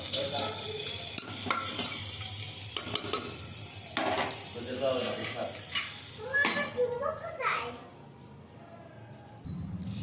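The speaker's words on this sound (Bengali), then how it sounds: "এটা একটু ফ্রাই হবে।" Ingredients frying in a pan for mutton paya soup, soft sizzle with clinks and scrapes of a spoon against the pot, fading quieter near the end.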